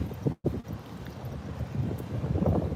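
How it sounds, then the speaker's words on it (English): Ocean surf at Jensen Beach, heard as a steady low wash with wind buffeting the microphone, continuous and fairly close, with a brief dropout near the start and no talk. "And the sound of the ocean."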